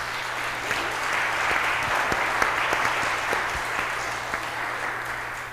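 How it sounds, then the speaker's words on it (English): An audience at an annual meeting applauds the nominees for election, steady clapping from a roomful of people sustained evenly throughout, with a faint low hum beneath. "Let's give a round of applause to our nominees."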